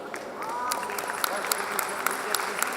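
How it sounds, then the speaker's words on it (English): An audience at a school event in Muscat applauds the basketball winners, a steady wash of clapping from a crowd at moderate distance with a few sharper claps standing out. "Please may I hear a thunder of claps for our heroes who demonstrated their expertise diligently."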